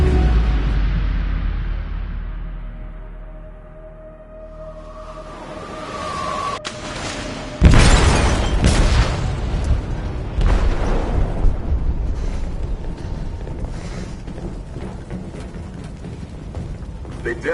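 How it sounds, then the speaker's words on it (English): A heavy explosion tears through a ship's hold in the video game Detroit: Become Human, a loud deep boom followed by rumbling debris and churning noise that carries on for several seconds. "They detonated an explosive in the hold"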